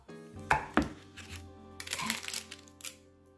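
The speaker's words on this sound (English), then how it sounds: "cut this into little chunks" A knife chops frozen cottage cheese ice cream into chunks: two sharp cracking cuts early, then a crunchier run of scraping cuts and a last knock, close and fairly quiet.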